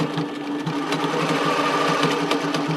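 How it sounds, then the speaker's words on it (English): A sewing machine runs a zigzag stitch along a bra band, a steady, fast, close mechanical whirr with rapid needle ticking that stays even from start to finish. "I'm going to basically sew with a zigzag"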